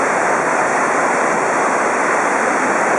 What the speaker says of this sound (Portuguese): Olha o barulho da cachoeira.